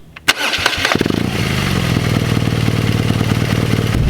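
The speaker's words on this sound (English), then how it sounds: "you have the classic boxer engine from BMW" A 2017 BMW R nine T Racer's 1170 cc air/oil-cooled boxer engine cranks with a few quick starter chugs, then catches and settles into a loud, close, lumpy idle.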